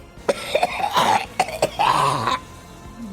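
A man coughing up in a quiet room: a run of harsh, wet coughs in several close, loud bursts with short gaps between, no talking.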